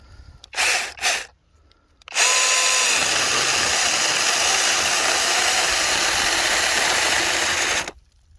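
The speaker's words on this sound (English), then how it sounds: "it's still stalling out even with the bigger battery" A battery-powered electric mini chainsaw running on a 20V Dewalt battery: two short bursts, then a long loud whine as it cuts, straining and bogging before cutting off abruptly. No one speaks.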